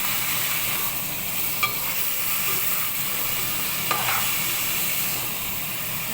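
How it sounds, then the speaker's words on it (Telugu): Tomato pieces frying in a mutton curry sizzle steadily in the pan while being stirred, with a constant close hiss and a couple of faint scrapes from the spoon. "టమాటా పీసెస్ కూడా మొత్తం అన్ని పీసెస్లో కలవాలి, కలిస్తే మగ్గుతాయని చెప్పి అలా కలుపుతున్నాను."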